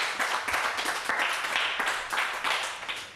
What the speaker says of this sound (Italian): Fate l'applauso al mister